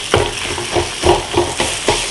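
Cooked vegetables being mashed with dry-roasted gram flour in a pan for veg burger patties, a close, loud series of about six rhythmic thumping presses over a continuous soft scraping hiss.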